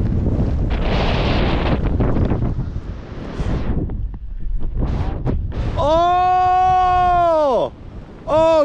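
Strong wind during Hurricane Ian buffets the microphone in heavy roaring gusts that rise and fall, followed by a loud sustained harmonic howl near the end.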